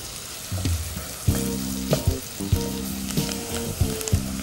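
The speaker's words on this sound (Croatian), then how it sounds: "I pržimo dok ne omekša." Chopped onion sizzles in melted butter in a pot, a close steady frying hiss broken by a few rhythmic scrapes of stirring.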